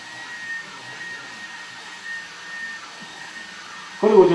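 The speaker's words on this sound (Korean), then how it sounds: "그리고 저 드라이기 있죠. 지금 쓰는 드라이기." A small but powerful hair dryer runs as a steady, moderately loud whir with airy hiss, holding an even drone for several seconds before a louder shift near the end.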